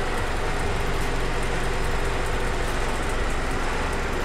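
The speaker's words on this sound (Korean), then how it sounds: "엔진 소리 일정합니다." Steady, even idle of a second-generation base-model Mini Cooper Clubman, recorded close with the engine bay open. The dense hum holds constant with no revving or voices.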